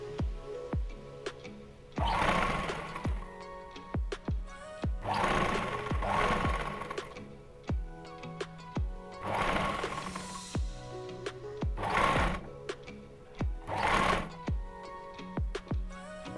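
Electric sewing machine stitching a Patiyala salwar, running in repeated bursts of fast mechanical whirring separated by short pauses and clicks, close and steady with no talk.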